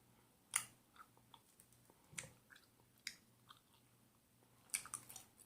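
Someone chewing a tough wine gummy close to the mic, producing quiet squishy, sticky chews and occasional louder clicks in an irregular rhythm over a few seconds, with no talking.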